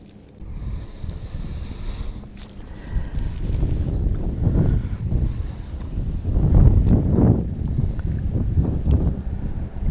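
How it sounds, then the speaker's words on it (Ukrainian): Gusty wind buffets the microphone outdoors beside a reed-lined lake while spinning for fish, a steady roar that swells and surges in heavier gusts toward the end, with no talk. "Проблема є трошечки з вітром."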